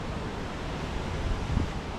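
River water rushes flat out through fully open hydroelectric sluices on an autumn day in Belper River Gardens, a steady, dense broadband roar with wind buffeting the microphone and a brief low thump near the end.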